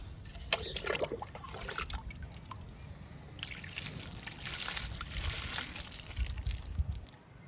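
Lily plants in pots are lightly watered, with a soft, steady trickle and dribble of water and scattered drips against faint outdoor background noise.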